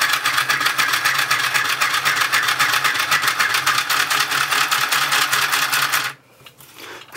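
Sewing machine running fast and loud, with a dense, even rattling stitch rhythm for about six seconds before it abruptly stops.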